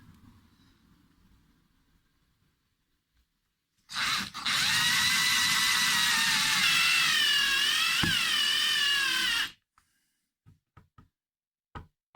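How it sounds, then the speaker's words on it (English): A power drill or driver spins steadily for about five seconds as bridge screws go into a guitar body, loud and close, followed by a few faint knocks and taps. "And then I'll screw those on and use the bridge as a template for the rest."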